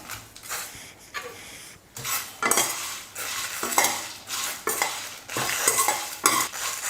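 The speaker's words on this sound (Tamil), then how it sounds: "கருவேப்பிலையோட ஈரப்பதெல்லாம் போகிற அளவுக்கு வறுத்துக்கலாம்." Curry leaves and masala fry in a pan while a metal spoon stirs them, producing loud repeated scraping and clanking strokes over a low sizzle, close up with no talk.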